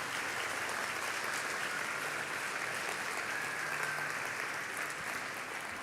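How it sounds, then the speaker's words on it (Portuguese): A church congregation applauds during a Sunday celebration service, a steady, even wash of clapping from a large room, moderately distant and sustained without any voices. "Você pode aplaudir ao Senhor por isso hoje, em nome de Jesus."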